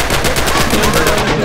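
A mounted turret machine gun rattles in a loud, steady rapid stream of shots during a Rising Storm/Red Orchestra 2 battle, close and continuous without pause.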